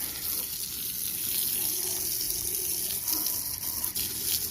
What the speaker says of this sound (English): I just got this little garden hose here.